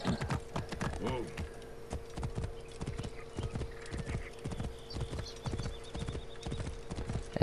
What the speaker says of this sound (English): Definitely need to go with a horse in this one.